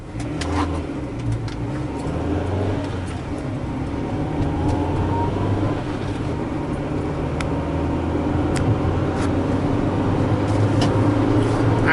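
A 1999 Acura Integra engine pulls hard through third gear toward high revs, a steady loud engine roar with rising pitch, road and traffic noise underneath and no talk.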